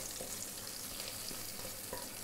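Cucumber pulissery, a Kerala yogurt curry for an Onam sadya, stirred in a pan with a steady low sizzle and soft scraping throughout, with no one talking.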